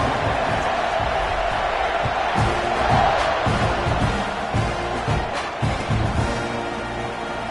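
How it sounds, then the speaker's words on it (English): A football stadium crowd roars steadily just before a kickoff following a touchdown, a dense, continuous wall of cheering and shouting that holds at full volume throughout, with surges and whoops rising out of the din. "this crowd now ready to get behind them"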